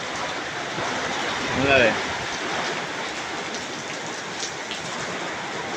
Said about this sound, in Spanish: Aquí está pegando un llovidón.